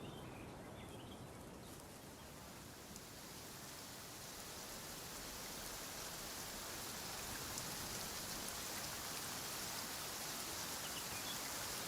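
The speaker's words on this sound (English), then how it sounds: "Taking a stroll in the middle of a downpour certainly rouses the spirit." Steady downpour in the Genshin Impact video game, a dense continuous hiss of rain falling on surfaces that builds slightly louder over time, with no talking.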